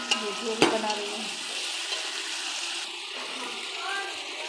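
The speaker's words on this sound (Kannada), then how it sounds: "ಇದು ಚೆನ್ನಾಗಿ ಫ್ರೈ ಆಗಬೇಕು" Biryani masala with tomato sizzling and being stirred in a pan, a steady close frying hiss with a sharp clink of a utensil early on, under a voice talking.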